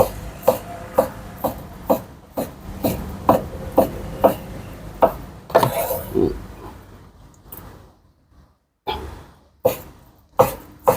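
Steady knife chops thud against a cutting board in a regular rhythm as grilled chicken is cut into small pieces, pausing briefly before a few more cuts.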